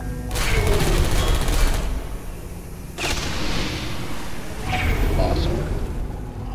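A turret in the video game Portal 2 fires three long rapid bursts, each a dense rattling stream of shots with short gaps between, and a voice speaks during them.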